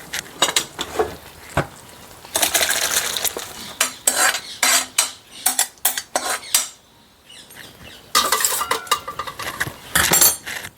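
Cold-roti curry being scooped from a pan into a bowl with a metal spoon. Bursts of scraping and clinking come in uneven clusters with short pauses between them, fairly close, and nobody speaks.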